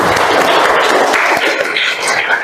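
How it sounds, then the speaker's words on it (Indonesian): Classroom of students clapping together on cue during a lesson, a loud, close burst of quick hand claps with voices mixed in, lasting only a couple of seconds. "Tepuk tangan untuk kita semua."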